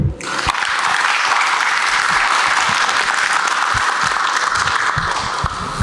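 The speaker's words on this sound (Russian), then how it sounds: "Аплодисменты" Sustained, loud audience applause fills the hall after a talk on building an IT startup, steady clapping from a large crowd throughout with no speech over it.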